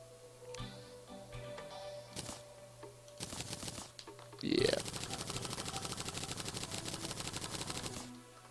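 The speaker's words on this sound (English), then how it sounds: "If you heard all that clicking, that was just me clicking on a laptop." Rapid clicking on a laptop, a dense run of sharp clicks carrying on steadily for several seconds near the mic, after scattered earlier taps and some muffled talk.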